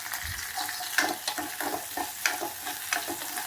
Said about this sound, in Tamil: இதையும் தனியாக அதே பாத்திரத்தில் சும்மா ஒரு நிமிஷம் போட்டு வதக்கிட்டு அதையும் போட்டுக்கலாம்